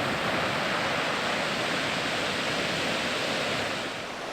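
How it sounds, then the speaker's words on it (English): Ocean waves crash against rocks at Torrey Pines State Park in a loud, continuous wash of surf that holds steady and eases slightly at the end, with no voices. "listen to the sound of the waves crashing through the rocks at Torrey Pines State Park"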